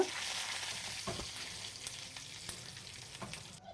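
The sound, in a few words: tempering of dried red chillies and curry leaves frying in oil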